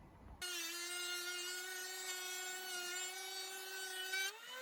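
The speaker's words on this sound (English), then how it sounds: "Now let's get on to the planing." A power planer starts up and holds a loud, steady high-pitched motor whine while planing a reclaimed scaffold board, then the tone shifts slightly as it winds toward the end.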